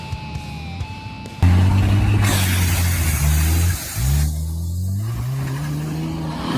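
A car climbs a steep off-road hill, its engine loud and close, straining and revving in two long surges with a brief dip between them.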